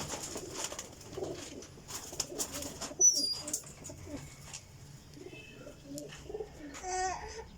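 Golden teddy pigeons coo in repeated soft, throaty bursts at close range, mixed with scattered clicks, wing flutters and a few higher chirps, all fairly quiet.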